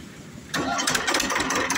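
A 2005 TAFE 25 DI tractor diesel engine fires on the self-starter after a brief quiet moment and settles into a loud, rough, close idle.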